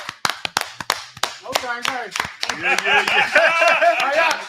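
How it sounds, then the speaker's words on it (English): Several sharp claps ring out, a few people clapping rather than a full audience, then a voice speaks over the last scattered claps. "Clap it up, everybody."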